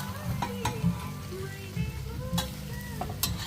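Onions frying in a pan for a venison fry, steady close sizzle with several sharp scrapes and clicks of a utensil stirring against the pan, no talking.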